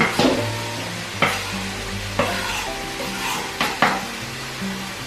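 Vegan bolognese ingredients sizzle in a hot pan, a steady close frying hiss broken by several sharp clinks and scrapes of stirring.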